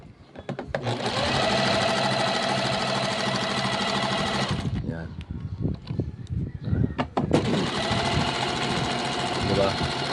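An industrial sewing machine stitching a fine zigzag runs in two loud, fast, buzzing bursts close by, separated by a pause filled with handling clicks and thumps, while people talk.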